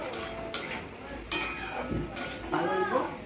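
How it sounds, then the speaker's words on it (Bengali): Cumin, coriander and turmeric powders being stirred and sautéed in oil in a pan, with a soft sizzle under repeated scraping spoon strokes and metallic clinks against the pan, close by. "জিরা গুঁড়া, তখন দিই অল্প আধা চামচ মতো হলদি গুঁড়া দিয়ে ভালো করে সাতলাই"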